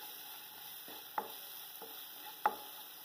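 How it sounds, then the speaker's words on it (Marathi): A spoon scraping and stirring through a ragda mixture of peas in a pan, a few soft scrapes and light clinks over a faint background hiss, close and quiet. "मिक्स करायचंय चांगलं."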